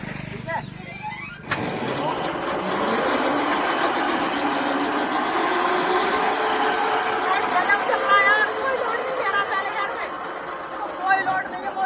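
Homemade electric tractor motor pulling in first gear, a steady loud whirring drone that rises in pitch after a brief start, continuous throughout with someone talking over it.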